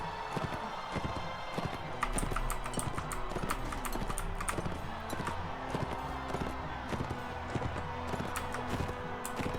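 Horse hooves clop in a fast, rhythmic gallop during a medieval battle in the video game Mount and Blade: Warband, moderately loud and continuous with a brief whinny.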